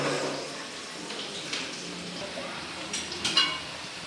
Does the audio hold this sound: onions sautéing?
yes